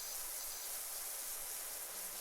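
A pressure washer jet blasting surfaces in PowerWash Simulator 2, a steady, even hiss of spray running continuously without pause, close and moderately loud.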